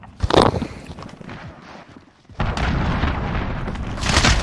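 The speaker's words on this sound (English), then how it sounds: "Allied cruise missile away!" A cruise missile strike in the video game Call of Duty Modern Warfare lands as loud booming explosions, a heavy blast early then a sustained rumbling roar of detonations after a brief lull, with no talk over it.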